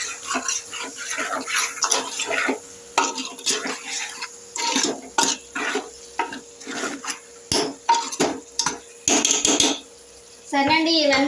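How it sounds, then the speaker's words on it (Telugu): Garam masala and spices for sambar are stirred in a pot, giving repeated close clinks and scrapes of a utensil against the metal in uneven bursts, with a brief watery swish near the end. "కొంచెం గరం మసాలా, ఇవంతా ఒకసారి అయితే కలిపేసుకుందామండి."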